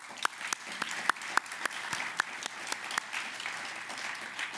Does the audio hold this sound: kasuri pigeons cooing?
no